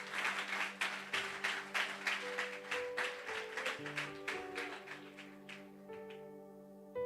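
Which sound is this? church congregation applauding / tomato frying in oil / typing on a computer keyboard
church congregation applauding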